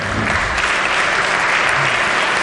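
West Virginia legislators on the chamber floor give a former delegate a sustained round of applause, dense steady clapping filling the hall at close range with no talk over it.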